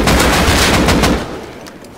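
Rapid gunfire in the survival video game Rust, a dense burst of loud, close shots filling the first second before thinning and fading into quieter scattered reports.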